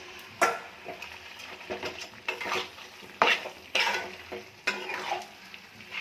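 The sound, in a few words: meat being fried and stirred with spices in a wok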